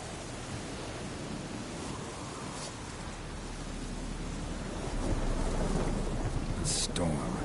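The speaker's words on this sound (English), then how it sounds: "A storm, damn it." Thunderstorm in The Witcher 3 game: steady heavy rain hiss throughout with a low rolling thunder rumble swelling louder in the second half, no voices.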